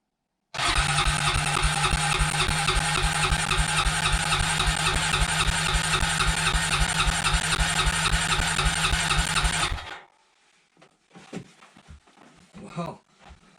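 A small Honda engine, primed and choked, cold starts and runs at a steady, loud, rapidly pulsing idle for about nine seconds, then cuts off, followed by faint handling clatter.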